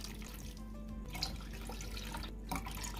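Water poured from a cup into sugar in a pan for baklava syrup, a steady close trickle and splash running throughout with no talking.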